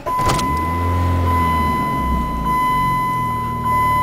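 A 1996 Dodge Neon engine cranking and catching, a short burst of starter noise followed by a steady idle hum with a constant electrical whine, close and fairly loud, no talk.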